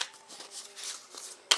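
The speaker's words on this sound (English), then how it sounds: "I already shuffled the cards. So I'm going to just cut them here" A shuffled deck of tarot cards is cut by hand, giving soft papery riffles and slides over a second or so, ending in a sharp, louder card slap close by.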